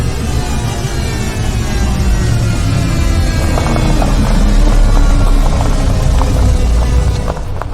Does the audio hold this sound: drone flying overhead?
yes